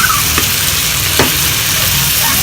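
Butter chicken pieces and broccoli stir-frying in a pan, a loud, continuous sizzle broken by a couple of sharp scrapes as a utensil stirs the food.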